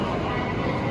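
A Chinese high-speed bullet train arrives close by with a steady, loud roar of wheels on rails, continuous and unbroken, with no voices.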